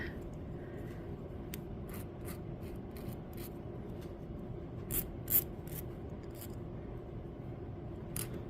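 Filing burrs off the edge of a hammered metal bead frame pendant, a series of short, close scraping strokes with a few sharper rasps, spaced irregularly over a steady low background hum.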